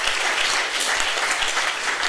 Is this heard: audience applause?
yes